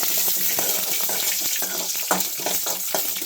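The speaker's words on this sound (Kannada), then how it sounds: "ಅರ್ಧ ಸ್ಪೂನು ಮೆಣಸು, 1 ಸ್ಪೂನು ಧನಿಯಾ ಇಷ್ಟನ್ನು ನಾನು ಎಣ್ಣೆಯಲ್ಲಿ ಒಟ್ಟಿಗೆ ಹಾಕಿ ಹುರಿತೀನಿ" Chilies, black pepper and coriander seeds frying together in oil for a vegetable kurma gravy, giving a steady, close hiss of sizzling with small crackles and pops throughout.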